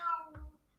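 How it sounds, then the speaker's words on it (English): A house cat gives a single short meow near the microphone, a brief rising-then-falling cry lasting under a second, with a soft thump at the end. "that's the cat"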